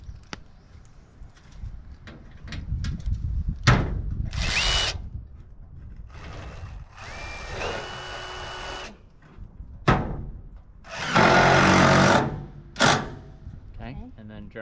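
A screw gun drives screws through metal siding on a goat shed in several whirring bursts of one to two seconds, close and loud, with people talking between and under the runs.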